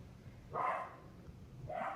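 A dog barks twice from another room: two short, muffled bursts about a second apart, faint against a quiet indoor background.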